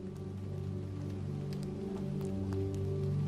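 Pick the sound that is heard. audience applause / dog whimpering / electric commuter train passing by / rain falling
rain falling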